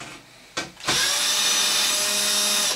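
A power drill fitted with a Torx bit, clutch set to its lowest setting, backs out screws from an Xbox 360 case. After a short blip and a pause, a steady, loud, high motor whine runs continuously to the end.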